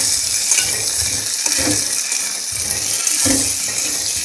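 Potatoes and tomato pieces stirred through a rohu fish curry in a pan, giving steady wet scraping and stirring with soft clinks of the spoon against the metal over a continuous hiss of cooking.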